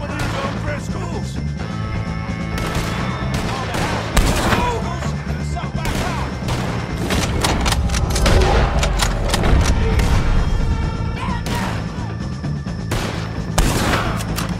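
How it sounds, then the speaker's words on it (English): Rapid volleys of gunfire in Red Dead Redemption 2, shooting at the Driscolls, crack and boom in dense bursts with short pauses, loud and close. "If you can hear me, shoot some of these old Driscolls!"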